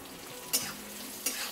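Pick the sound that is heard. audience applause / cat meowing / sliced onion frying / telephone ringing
sliced onion frying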